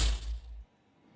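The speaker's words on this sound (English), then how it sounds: "I'm gonna show one that's called Connect, which is an ability in the game, and it sounds like this." A short video game ability sound effect called Connect, built as an FMOD event: a deep, booming thump with a bright burst on top that fades quickly into a faint tail, heard alone.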